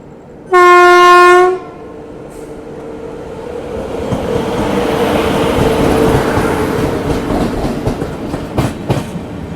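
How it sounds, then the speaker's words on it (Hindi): A Karnataka Express passenger train on the New Delhi to KSR Bengaluru route sounds a loud horn blast at a crossing, then its wheels rumble and clatter past close by, the clickety-clack building and lingering. "यह है कर्नाटका एक्सप्रेस। न्यू दिल्ली से केएसआर बेंगलुरु के बीच में चलने वाली कर्नाटका एक्सप्रेस।"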